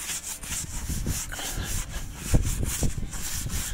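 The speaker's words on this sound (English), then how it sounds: "Let's give her a scrub." A brush scrubs the wheel of a 1994 Ford F-350 diesel dually, making quick, uneven back-and-forth bristle rubbing strokes, close and moderately loud, with no talking.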